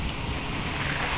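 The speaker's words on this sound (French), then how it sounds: "il y a trop de vent pour faire du bateau" Strong wind buffets the microphone on a river near Vienne, too gusty for boating, a continuous loud rushing roar with no voices.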